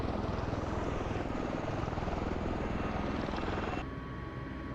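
A V-22 Osprey tiltrotor in Microsoft Flight Simulator drones loudly with dense, pulsing rotor and engine roar as the nacelles swing toward airplane mode, the tone dropping slightly and thinning near the end.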